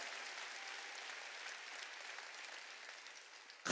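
Sustained clapping from a church congregation at a Wednesday worship service fills the room, a steady dense wash of many hands at moderate distance, with no talking over it.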